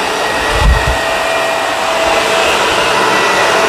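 A Shark Rotator vacuum cleaner pulling dirt from a carpet, a loud, steady close-up motor whine with a brief low thump near the start.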